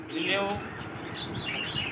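Thin, high chirping calls from an Indian Lotan pigeon chick come in short bursts close by, with faint background noise and a bit of human voice mixed in.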